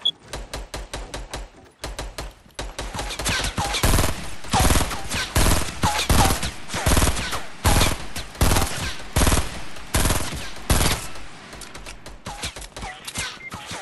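Gunfire in the video game Fortnite rattles in fast, repeated bursts, loud and sharp, with short pauses between volleys and steady shooting for most of the stretch.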